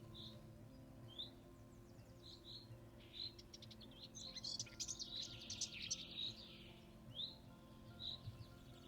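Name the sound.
common chaffinches calling to each other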